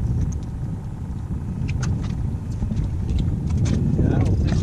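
A boat motor runs on a saltwater redfish outing off Amelia Island, holding a steady low engine rumble with wind noise, while voices are heard faintly in the background.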